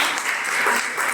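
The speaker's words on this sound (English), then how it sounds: "And I think a big round of applause for Sanjana." Brief burst of audience applause at a panel discussion, dense and steady clapping from a room full of people, fairly loud and without talk.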